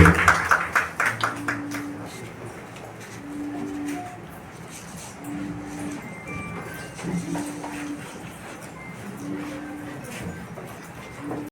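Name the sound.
audience applause at an award ceremony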